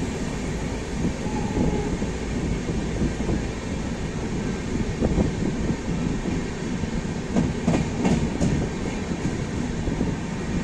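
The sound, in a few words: train arriving at station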